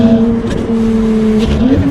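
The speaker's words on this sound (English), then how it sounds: "Just driving around this well-known sharp corner on Black Mountain Pass." Ferrari 296 engine holds a steady, strong tone through a sharp corner on Black Mountain Pass, close and loud, the pitch dipping and then climbing again as it powers out.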